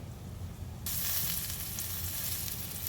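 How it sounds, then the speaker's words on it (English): Chicken frying gently in canola oil at moderate heat, a steady soft sizzle that rises suddenly after a quiet start and holds at an even level, close and alone with no voices. "it's not like popping rapidly because I don't have it on a high temperature to fry"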